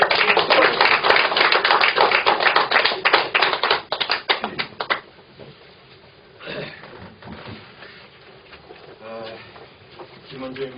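An indoor audience at a lecture event claps in dense, loud applause for an arriving speaker, fading out after about five seconds into quieter room sounds and a voice at a microphone.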